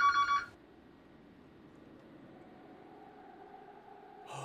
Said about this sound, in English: Oh, who's calling up the phone?